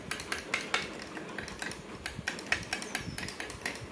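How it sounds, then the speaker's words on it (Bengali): A spoon clinks against a vessel in a quick, uneven rhythm while ghee is stirred into a drink made from leftover rice water, close and fairly soft, with no speech. "দেখছেন, আমি এটা গুলে দিচ্ছি।"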